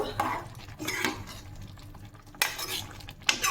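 A spoon scrapes and stirs rice mixed with ghee in a cooking pot, with bursts of clinking metal and gentle scraping, quieter pauses between strokes, and no talking.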